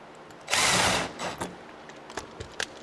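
An 8mm fastener on a Polaris RZR side-by-side clutch cover is backed out with a power tool, giving one loud whirring burst of about half a second and then a few faint clicks and handling taps.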